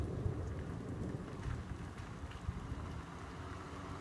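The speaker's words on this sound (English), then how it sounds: "well, now it's thundering." Thunder rumbling low and continuous through light rain, a dense steady patter of drops outdoors with the deep roll spread evenly across the whole stretch.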